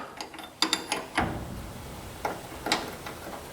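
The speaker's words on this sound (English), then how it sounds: "Obviously need to rotate it a little bit more with my ancient 14 spanner." An old 14 spanner turns a bolt on a VW linkpin front end during a rebuild, giving a series of close, irregular metallic clicks and ratcheting taps in short bursts.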